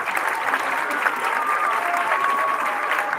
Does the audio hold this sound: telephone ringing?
no